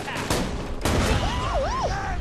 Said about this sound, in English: I saw those explosions from here.